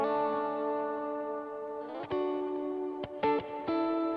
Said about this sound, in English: So there's some electric guitars happening over here.